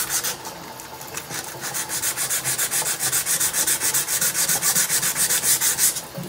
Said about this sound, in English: use your sandpaper, like in this part right here inside